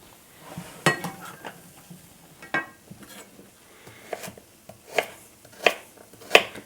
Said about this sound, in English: then I'm going to continue to chop up these carrots